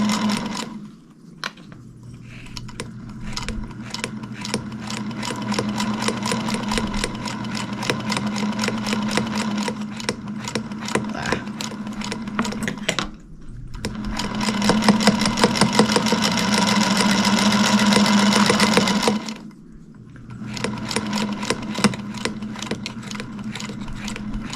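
A sewing machine runs steadily through a seam, its motor humming with rapid needle clatter, pausing briefly and then speeding up louder before a short stop and a restart.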